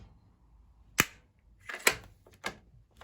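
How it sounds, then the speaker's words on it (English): A German 71/84 infantry rifle's action being worked and closed: three or four sharp metallic clacks in quick succession, close and crisp against a quiet background. "there we go, close the rifle."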